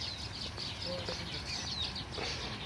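Faint bird chirps, including mynas, sound at a distance over a low outdoor hum at dusk near an ancient Buddhist monastery site in Mainamati, Comilla.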